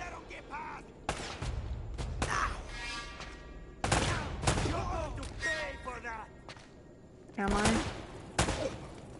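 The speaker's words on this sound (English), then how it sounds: "Who are you shooting at?" Gunfire in Uncharted, several sharp bursts of shots, some in rapid strings, loud and close, separated by pauses with spoken voices in between.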